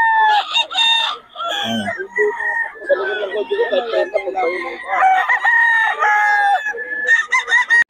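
A yellow-legged hatch gamecock rooster at the Bocaue market crows loudly and nearby, then clucks in short bursts, with a voice briefly talking between calls.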